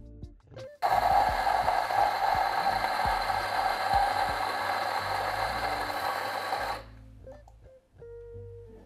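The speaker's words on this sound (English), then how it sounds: "Now let's adjust the grind size to espresso." Fiorenzato coffee grinder being set to espresso grind, a loud continuous mechanical whirring and ratcheting that runs steadily for about six seconds, then stops, followed by faint handling clicks.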